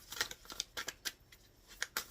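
Tarot cards being shuffled by hand, a quick irregular series of crisp riffling snaps and flutters, close and fairly quiet, with no talking.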